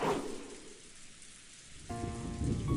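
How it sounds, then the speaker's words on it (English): Rain and thunder in the Umineko visual novel game: a soft rumble fades into steady rainfall, then a louder rolling swell with a low hum builds toward the end. "the sound of thunder rang out"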